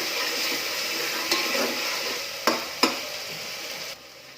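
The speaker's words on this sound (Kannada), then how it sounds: "ನೆಲೆ ಮಾಡಿಕೊಂಡಂಥ ಶುಂಠಿ ಬೆಳ್ಳುಳ್ಳಿ ಪೇಸ್ಟ್ನ ಈಗ ಆ್ಯಡ್ ಮಾಡ್ತಾ ಇದ್ದೀನಿ." Ginger garlic paste frying in hot oil in a pan while being stirred for a quick kushka, with a steady close sizzle and a few sharp scraping clicks of the spoon against the pan.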